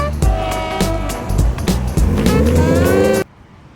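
A Subaru WRX engine revs roughly and loudly, then cuts out abruptly as the car stalls, leaving near silence for the last half second.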